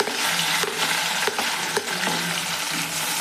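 Onion fries in oil after a cumin tempering, a loud continuous sizzle with occasional clinks and scrapes of stirring in the pan.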